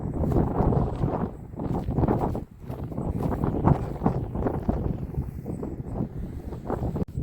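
Strong wind sweeps across an open countryside spot near wind turbines, buffeting the microphone in a gusty, rumbling roar that persists throughout with no talk.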